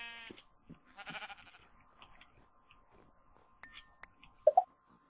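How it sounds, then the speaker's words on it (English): Sheep in a Minecraft modpack bleat twice in quick succession near the end, faint against quiet game sounds and scattered soft clicks. "Oh, look, sheep."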